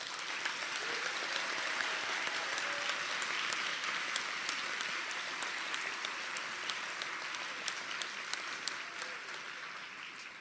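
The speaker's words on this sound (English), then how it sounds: "Let's have one more round of applause for our students." Audience applause for nursing students at a white coat ceremony, sustained even clapping from a large crowd filling the room at moderate distance, steady for the whole stretch and tapering slightly at the end.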